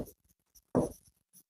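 Chalk or marker writing on a classroom board during a lesson on the human digestive system: a few short scratchy strokes separated by pauses, close and fairly quiet.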